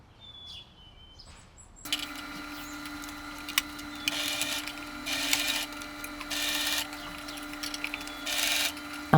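A sewing machine stitches fabric in short bursts of rapid, close mechanical chatter, four or five runs separated by brief pauses over a steady hum, after a quiet opening.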